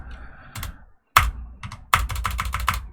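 Keyboard keys are pressed in quick bursts to trigger attacks in a Unity game: a short pair of taps, then a single tap, then a rapid run of several clicks, close and clear with no talking.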